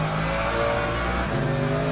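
Race car in the Le Mans Ultimate video game, its engine giving a steady, very low grumbly drone that holds loud and even without a break.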